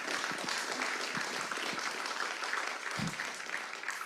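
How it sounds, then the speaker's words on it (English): Applause from the audience at a city council meeting, a continuous patter of clapping held at fairly even strength throughout, with a few louder individual claps and faint voices underneath. "Give them a big round of applause."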